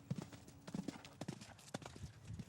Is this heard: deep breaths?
no